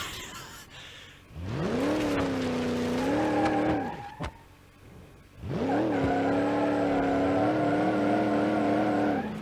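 A car skidding in BeamNG.drive: two long, loud tire squeals with a steady whine over engine noise, separated by a short lull. No voices.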